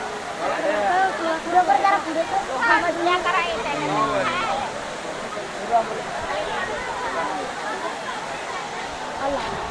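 A waterfall near the Ekvira temple rushes in a continuous roar, and people talk over it from close by.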